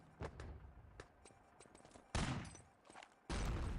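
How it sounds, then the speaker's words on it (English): Gunfire and explosive blasts from an airstrike landing on a bridge in the shooter game Enemy Territory, with scattered shots followed by two loud, sustained booming bursts close by. "Airstrike on the bridge as well from Blades."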